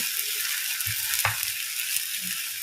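Spinach paratha roasting on a hot pan over a slow-medium flame gives a steady, even sizzle with a few soft scrapes and taps, close up and without voices.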